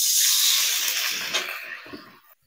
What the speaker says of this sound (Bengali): তেলে ফোড়নে দেবো একটু 5 ফোড়ন